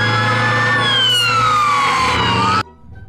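A toy fire truck siren wails loudly and close, its electronic tone sliding slowly downward for a few seconds over a low hum, then cutting off abruptly into near silence.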